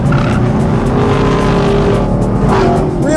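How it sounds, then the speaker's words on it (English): Loud, steady V8 engine rumble from a Chevrolet Camaro being driven hard on a test track, with a hint of tire squeal through the corner. "Love the manly V8 rumble of this Camaro V8."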